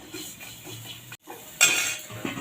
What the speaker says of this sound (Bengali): আবার একটু নেড়ে চেড়ে মিশিয়ে নেবো ভালো করে